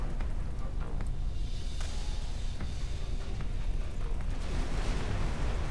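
Explosions and heavy weapon fire in the space game X4 Foundations, a loud, continuous rumbling roar with scattered sharp bursts throughout, no speech.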